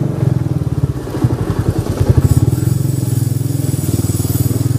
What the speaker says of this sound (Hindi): बाइक साउंड देखो, अभी यहाँ से घुमा लेता हूँ।